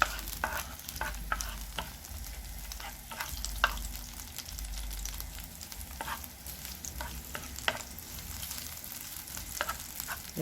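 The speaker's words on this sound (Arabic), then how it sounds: "بصوا الفلفل كده هديله تشويحه." Bell peppers are stir-fried in a pan: soft frying hiss under repeated scraping, tapping strokes of a utensil at an irregular rhythm, fairly quiet and close, with no voices.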